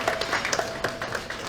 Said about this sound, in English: Let's have one more round of applause for all the honorees tonight.